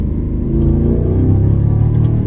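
Mercedes-Benz SLS AMG engine revving up close, a loud, deep, throaty rumble that holds steady and powerful for a couple of seconds with no voices over it.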